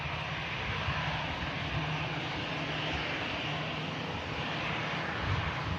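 An EasyJet Airbus A320 jet arriving from the Isle of Man in a strong crosswind, giving a fairly faint, steady engine rumble and hiss that holds for several seconds.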